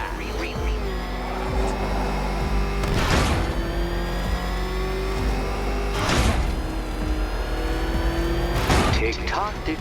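Batmobile engine in a Batman video game, a steady motor drone with three loud revving bursts spaced a few seconds apart, close and prominent, with game voice and music sounds layered underneath.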